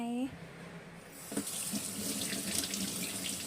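Salted eggs, cured seven days, rinsed of their salt under a running kitchen tap: a steady splashing water stream that starts after a brief voice and continues to the end.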